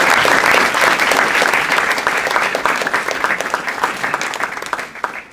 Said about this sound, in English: can we get a round of applause for all of our panelists?